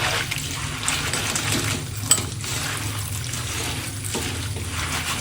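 Spinach leaves are washed by hand in a basin of water to loosen fine grit, giving a steady, close slosh and trickle with a light clink near the middle and no talking.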